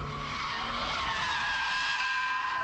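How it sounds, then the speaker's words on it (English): A car power sliding through a wide drift, its tires skidding in one long, steady screech with an engine roaring underneath, close and loud throughout. "We're happily power sliding"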